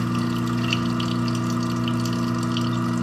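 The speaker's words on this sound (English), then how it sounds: "turn your garbage disposal on for just a little bit with a little drip of hot water" A kitchen garbage disposal runs with a thin drip of hot water, giving a steady loud motor hum with layered tones and a watery gush over the top, continuous and close, with no talking.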